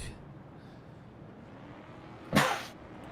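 A single sharp sneeze bursts out over a quiet background hum, brief and fairly close.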